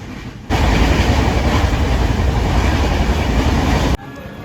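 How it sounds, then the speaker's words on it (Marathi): A train pulling into Chiplun railway station on the Konkan line makes a loud, steady rumble and rattle that starts abruptly, holds for about three and a half seconds, then cuts off. "ट्रेन आता आली आहे चिपळून रेल्वे स्टेशनला"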